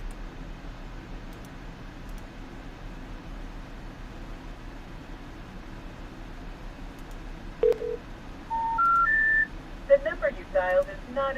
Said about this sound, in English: So let's call these people up.